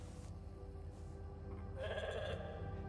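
A sheep named Molly bleating in The Alters, a single drawn-out bleat rising near the end over a low, constant hum of ambient background sound.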